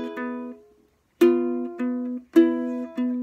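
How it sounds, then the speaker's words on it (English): A ukulele plays a chord, then the two strings nearest the ceiling are plucked in turn. The notes ring clear and close with short pauses between strokes, and no one speaks. "and then I'm just plucking the two strings closest to the ceiling."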